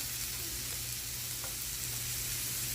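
Mushroom and cheese stuffed chicken sears in a pan with a steady, soft sizzle, a constant faint hiss with no voices.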